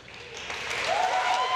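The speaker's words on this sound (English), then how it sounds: "Although I appreciate the applause" Audience applause fills a closing ceremony for the 2016 Special Olympics Ontario Spring Games, a steady wash of clapping that swells louder toward the end, with a faint voice drifting underneath.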